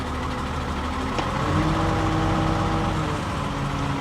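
A Lorain crane's diesel engine runs loud and steady with a sticky throttle, holding a continuous, rough mid-pitched drone that swells slightly partway through, with no voices.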